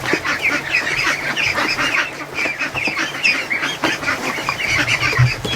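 Young ducks in a crowded barn quack and honk continuously nearby, many overlapping calls with no pause, loud and busy throughout.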